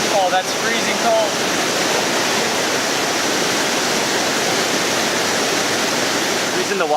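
Kuang Si limestone waterfall in Luang Prabang pours in a loud, steady, unbroken roar of rushing water, close by and filling the whole scene without pause.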